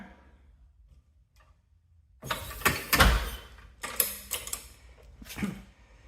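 A car jack lowers a Honda Accord after a front upper ball joint replacement. Near-silence gives way to a few close mechanical clicks and clunks in uneven bursts, with no talk.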